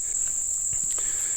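Insects in a forest near Lake Vesuvius in southeast Ohio: a steady high-pitched cricket-like drone runs throughout, with faint soft taps beneath it.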